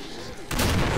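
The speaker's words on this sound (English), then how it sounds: "Pow, explosion." A sudden explosion in the video game Killing Floor bursts in halfway through, a loud broadband blast that keeps roaring densely to the end after a quieter stretch of game ambience.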